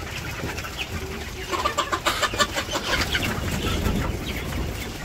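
Several village chickens feeding together, with a busy patch of overlapping clucks and soft calls rising in the middle over steady outdoor background noise.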